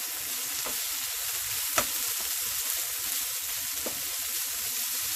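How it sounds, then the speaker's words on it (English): Peppers and onions sizzle steadily in a hot pan seasoned with smoked paprika, giving an even, hissing fry with a few soft clinks as they are stirred. The sound is close and no one talks. "My peppers and onions are all sauteed up."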